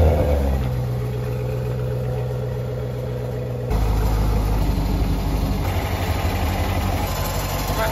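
Totaled C7 Chevrolet Corvette engine running at a steady idle, a loud low rumble with even vibration that steps up slightly partway through and then holds steady, with no talk.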